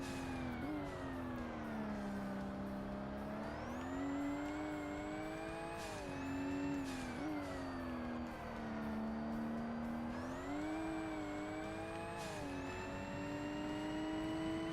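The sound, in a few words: race car engine in Forza Motorsport video game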